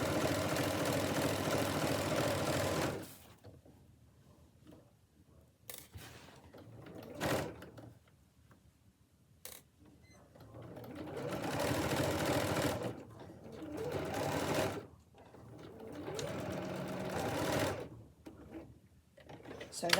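A sewing machine runs in several bursts of a few seconds each while stitching the sides of an apron, close and loud, with quiet pauses, small handling clicks and occasional speech between the runs.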